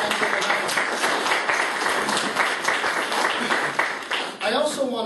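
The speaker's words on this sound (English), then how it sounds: "Feel free to give them a round of applause" Applause breaks out from an audience at an Ontario government job-creation program launch, a steady clatter of many hands that fades near the end as a voice begins speaking.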